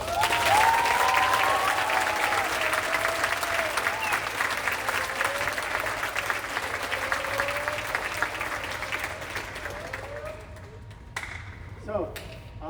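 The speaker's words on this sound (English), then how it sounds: "how about a nice round of applause then for our two guys here." An audience at a school jazz band and choir concert applauds, with loud, dense clapping that slowly thins out and fades toward the end, leaving only a few scattered claps.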